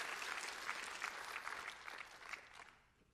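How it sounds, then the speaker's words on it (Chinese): Church congregation applauding together, a dense, steady wash of clapping from many hands that fills the room, then thins and fades toward the end. "我们一同为我们牧者同工们一同来鼓掌好不好？"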